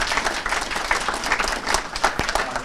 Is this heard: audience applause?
yes